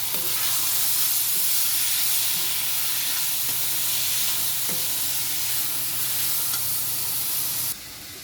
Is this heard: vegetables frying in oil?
yes